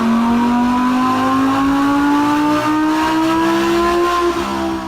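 A car engine revs at low rpm inside a tunnel, its tone compared to a classic V10 such as the LFA or Carrera GT; a loud, steady rising drone with strong harmonics fills the whole stretch, close and echoing, with no talk.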